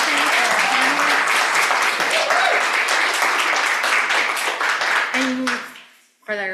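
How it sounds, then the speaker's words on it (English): Conference audience applauds panelists at a community college leadership session, sustained loud clapping from a crowd lasting several seconds before fading, with voices faintly under it. "Can we give another round of applause to our love appreciation for our panelists?"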